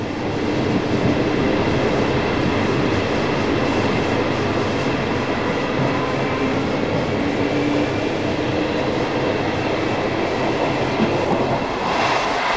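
A Fiat ALn 668 diesel railcar runs steadily and loudly close by on a minor line, its engine drone and rolling wheels forming a continuous dense roar with faint rhythmic clatter throughout.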